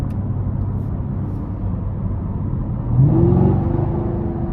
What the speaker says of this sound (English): even in tour mode, it's still loud, the exhaust is.